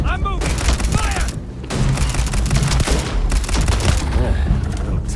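Loud, dense gunfire erupts during combat in Starfield, with rapid overlapping shots and bursts that go on almost without pause, broken by one brief lull and shouted voices in the mix.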